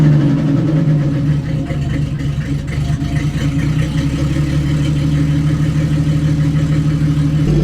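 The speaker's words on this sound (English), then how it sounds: "We're about to start her up" An offroad-built Nissan 240SX with a new AEM fuel pump idles loudly and steadily up close, a deep even engine drone with slight roughness and no talk over it.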